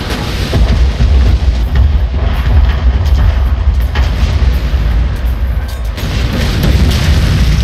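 Continuous rumbling booms of massed artillery fire in the Total War: Shogun 2 battle game, loud and dense, with layered thuds rolling over each other for several seconds.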